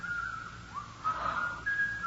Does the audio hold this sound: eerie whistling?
yes